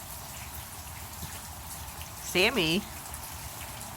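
Steady rain falls beside a porch where llamas shelter, a soft continuous patter, briefly interrupted near the end by a short spoken word over the rainfall.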